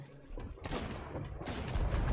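Ship cannons firing in the pirate video game Sea of Thieves, a series of loud booming blasts with broadband bursts in quick succession, growing denser and heavier toward the end, with no speech over them.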